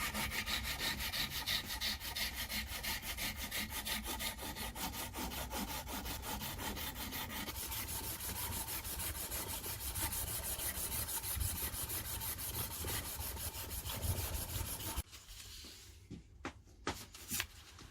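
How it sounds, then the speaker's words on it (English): A kukri knife blade being hand sanded with 2000 grit sandpaper, continuous fast back-and-forth rasping strokes close up, steady and fairly quiet, ending in a few separate scrapes. "down to hand sanding."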